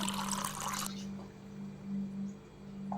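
Water pours into a pressure cooker on a gas stove with a close, splashy rush for about a second, then stops, leaving a steady low hum.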